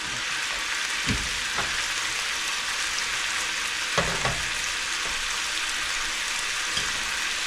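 Pork tocino and hotdogs frying in a little oil in a pan, giving a steady close sizzle throughout with a few soft scraping or stirring knocks and no voices.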